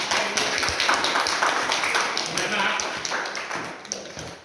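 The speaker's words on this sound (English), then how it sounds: "Another big round of applause" A crowd applauds steadily for several seconds at a magicians club Christmas awards gathering, many hands clapping close by, fading slightly toward the end, with voices mixed in.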